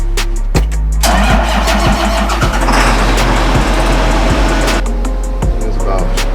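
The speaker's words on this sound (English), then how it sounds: "So I'll put the dipstick back in and then start it." A John Deere tractor engine cranks and catches, settling into a loud, steady, close-up idle with a low rumbling drone and occasional clicks.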